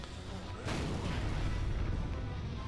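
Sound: bomb block exploding in the video game Catherine

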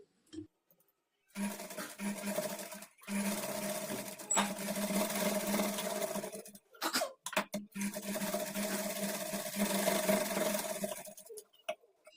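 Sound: sewing machine stitching a kurti seam

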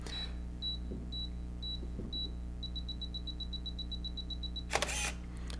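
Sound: Canon EOS Rebel camera self-timer beeping

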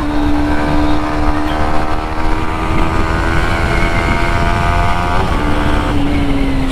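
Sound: Yamaha MT-15 motorcycle engine at speed

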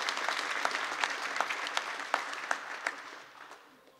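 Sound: audience applause at bill signing

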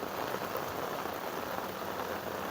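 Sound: heavy rain falling

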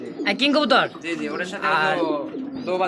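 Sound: pigeons cooing

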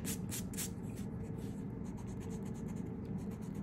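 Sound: erasing pencil guidelines on a drawing

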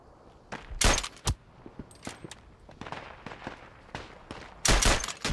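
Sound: machine gun fire in a WW1 video game

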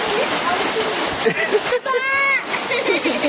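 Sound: heavy rain

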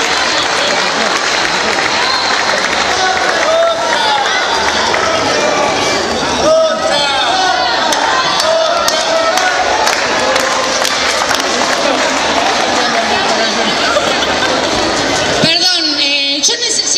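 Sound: festival audience applauding the dancers

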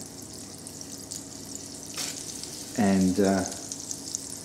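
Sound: butter and garlic sizzling in a pan

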